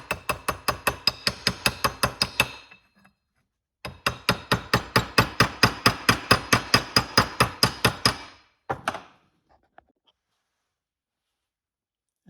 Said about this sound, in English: a big hammer would work too, and just kind of tap the edges